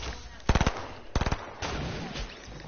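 Video game automatic gunfire rattles out in two short, rapid bursts of about four shots each, followed by a softer spray of shots, set against background game noise.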